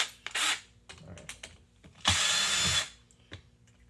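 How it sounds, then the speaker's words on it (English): A power drill backs screws out of an Onity HT24 hotel card reader, giving two distinct whirring bursts close up, separated by small clicks and handling noises. "when I'm removing it, I'll use the drill."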